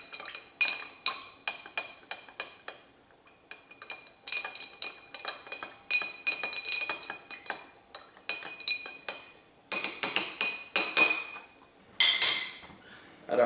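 A bacon bourbon cocktail being stirred in a glass: rapid, bright, repeated clinks of a spoon against glass in uneven bursts with short pauses between them.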